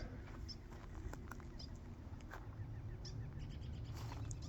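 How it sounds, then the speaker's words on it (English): Small black birds chirp outdoors in faint, scattered calls over a steady low background rumble, with no one speaking. "birds, what are those?"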